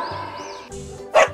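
A dog barking, with a few short, close barks and a sharp final yap over a brief moment.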